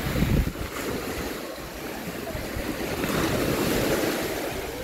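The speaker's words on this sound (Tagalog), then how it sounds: "Super lakas ng alon." Heavy surf crashes and churns continuously on the coast of Guimaras, Philippines, with strong wind buffeting the microphone; a loud, close, roaring sea with no voices.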